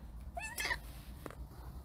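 A cat gives a single short, faint meow near a tiny snake, with a soft thump and low background rumble afterward.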